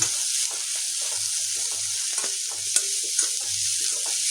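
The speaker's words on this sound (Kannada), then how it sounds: "ಹಾಕ್ಕೊಂಡು ಎರಡು ಸೇರಿ ಚೆನ್ನಾಗಿ ಫ್ರೈ ಮಾಡೋಣ ಎಲ್ಲನೂ." Onions and coriander leaves fry in a pan with a steady sizzle, while a utensil stirs and scrapes them in short bursts; no one speaks.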